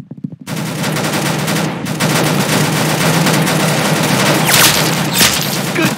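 Loud, dense rapid gunfire from a Roblox shooter game, sustained bursts of shots that start abruptly after a brief silence and continue without pause.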